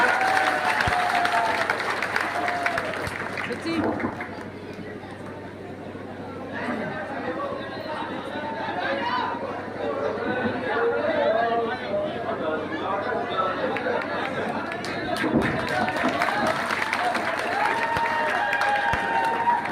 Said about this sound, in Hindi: भाई चंद्रशेखर जी के लिए दोबारा से जोरदार तालियां